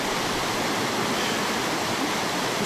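A waterfall around 20 metres high roars as a constant, loud, dense rush of falling water, heard up close at the edge with no talk and no break.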